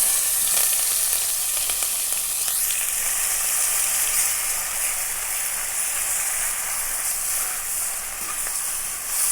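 Onion paste fries in hot oil with mustard seeds, producing a dense, continuous sizzle and crackle close to the pan at an even, loud level throughout, with no one speaking.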